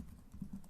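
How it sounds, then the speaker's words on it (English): Quiet computer keyboard typing as a file name is entered, a few soft muffled key taps close by under low room noise. "typing in our file name"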